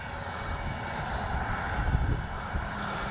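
An X-Fly J-65 radio-controlled model jet, just after takeoff, gives a steady turbine whine and rush that holds through the short stretch, fairly distant and moderately loud.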